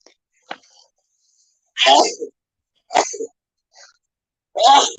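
A few sharp, sudden bursts like sneezes or coughs break up the silence, spaced apart, close to the microphone.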